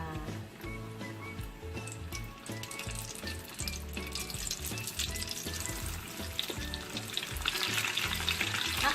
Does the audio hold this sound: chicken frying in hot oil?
yes